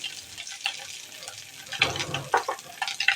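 Chopped onion frying in a pan for a pointed gourd and prawn curry, a steady sizzle with clinks of stirring that get louder and more frequent toward the end, and no talk.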